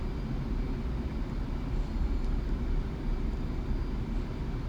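An F/A-18C Hornet jet engine in the DCS flight simulator runs throttled back, giving a steady low rumbling drone with a faint whine above it and no speech.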